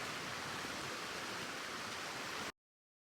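The Gura River flows over exposed rocks in a steady, broadband rushing wash, close and even, then cuts off abruptly before the end, with no voices.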